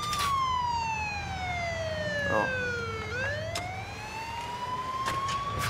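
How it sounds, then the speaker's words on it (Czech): A police car siren in the Mafia 2 video game wails loud and close, its pitch sweeping down and then back up in one long cycle, with a brief spoken word and some faint background clicks. "můžete vypnout tu sirénu"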